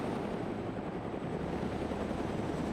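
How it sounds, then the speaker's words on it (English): A helicopter in a combat video game gives off a steady dense rotor rumble and whir, continuous and fairly loud with no pauses, alone without voices. "the chopper fight's still going"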